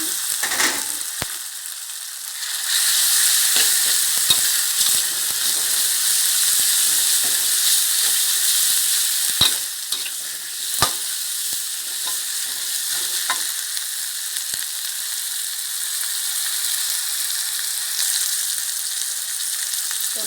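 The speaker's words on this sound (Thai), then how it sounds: "พริกแกงหอมแล้วหมูลงเลย" Pork stir-frying in red curry paste for a spicy pork curry with wild betel leaves, a loud continuous sizzle in a pan with occasional scraping stirs and clinks, no talk.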